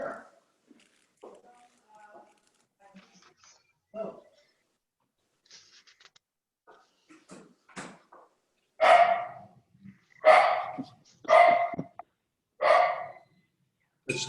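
A dog barks at home during a remote evening city council meeting, giving four loud, close barks in quick succession after a stretch of quiet, scattered talk and small noises.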